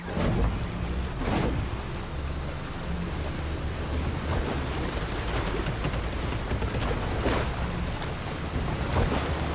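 A skiff moving over water in a video game, with steady rushing water, wind and wave wash and a couple of louder splashing surges near the start, continuous and fairly loud.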